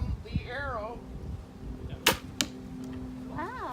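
A crossbow fires an arrow with one sharp snap of the string followed by a second quick thwack, surrounded by light outdoor background noise and faint bird calls.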